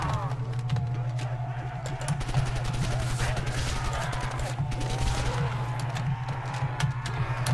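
Rapid bursts of gunfire in a zombies shooter video game, quick clusters of shots crackling over a steady low hum, with someone talking quietly at times.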